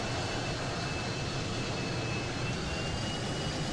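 Business jet engine roaring in the MSFS2020 flight simulator, a constant loud whine-and-rush drone that stays steady throughout.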